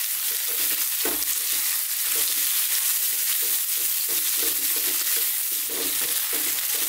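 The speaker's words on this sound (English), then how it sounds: "Now we're going to drop in our sliced onions. And high heat." Sliced onions frying over high heat while being tossed in a pan, with a steady loud sizzle and repeated scraping stirs at an even rhythm, close up and without talk.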